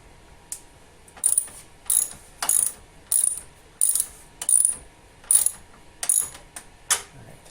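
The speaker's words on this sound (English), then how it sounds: "Give her a few cranks on that side, and then you're going to want to tighten it on this side." A ratchet clicks through about ten separate cranking bursts, close and fairly loud, with brief pauses between strokes while tightening the LED bulb bracket on a 2021 Subaru WRX.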